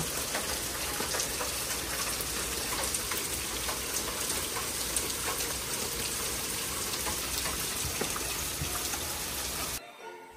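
Heavy rain pours steadily at a lakeside campsite, a dense, constant hiss of drops drumming on surfaces close by, cutting off abruptly near the end.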